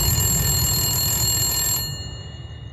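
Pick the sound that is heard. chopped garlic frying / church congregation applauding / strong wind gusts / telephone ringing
telephone ringing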